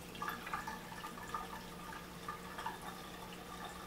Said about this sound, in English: Drain motor is activated to drain the water from the dishwasher.